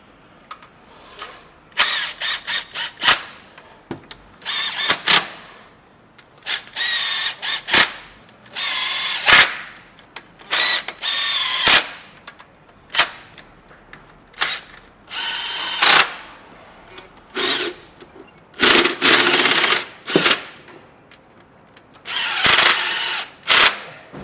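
Power drill or impact driver on a Toyota 80/100 Series part-time 4WD kit install, snugging bolts lightly in a string of short loud bursts with brief pauses between, no talk over it.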